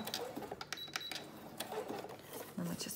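A sewing machine stitches a paper label for a junk journal in short, clattering bursts with mechanical ticks and whirs, close by and moderately loud, separated by brief pauses.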